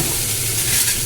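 Fish frying in hot oil in a home kitchen pan, giving a loud, steady, even sizzle that hisses without break for about a second, with no voices.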